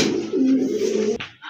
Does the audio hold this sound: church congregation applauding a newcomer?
no